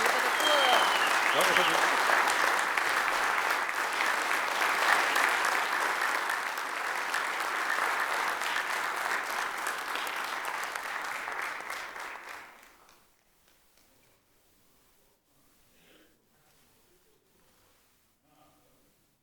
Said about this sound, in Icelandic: gefa þeim gott klapp